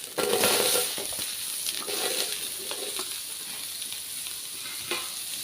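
Cut radish pieces sizzle steadily in a small amount of hot oil in a pan, with intermittent scraping stirs and light clinks from the spoon, close up and continuous with no talking.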